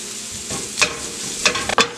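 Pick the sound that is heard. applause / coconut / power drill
coconut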